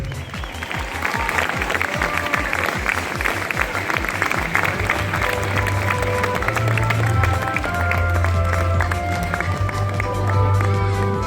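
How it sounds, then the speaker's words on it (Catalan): A theatre audience at the inauguration of a municipal theatre gives sustained, dense applause that swells and holds for about ten seconds. Crowd voices and a low tonal hum run underneath. "I un fort aplaudiment pel que ho fa sonar tot tan bé"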